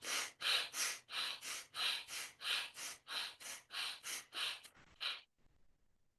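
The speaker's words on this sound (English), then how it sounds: "Just breathing here." Rapid rhythmic breathing during an outdoor yoga-style meditation practice: about a dozen quick, forceful, evenly spaced breaths close to the ear, then a short pause and soft exhale, with no talking.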